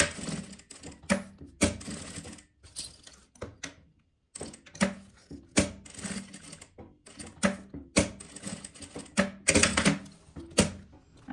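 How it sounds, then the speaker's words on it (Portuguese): A sewing machine stitches fabric in a series of rapid mechanical clattering runs, broken by short pauses and a brief silence, with no talking. "Vou costurar, ela tem que estar entre essa parte."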